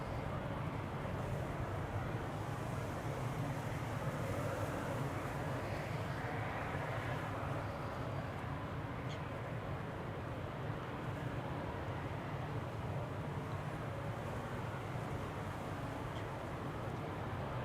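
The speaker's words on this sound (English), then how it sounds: "Embraer 190" A KLM Embraer 190 airliner departs Amsterdam Schiphol, a steady, broad, distant engine roar with low rumble that holds evenly for the whole stretch, with wind buffeting the microphone.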